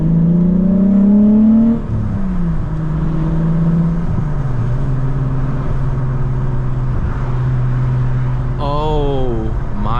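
A 1994 Volkswagen Corrado SLC VR6 drones steadily from inside the cabin while driving, its engine note rising then settling into a constant hum, with a brief higher chirp near the end.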